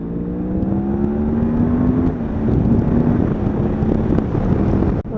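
A Yamaha MT-10 motorcycle accelerates hard along a dual carriageway, its engine note climbing steadily through the revs with a gear change midway, loud and close under heavy wind rush.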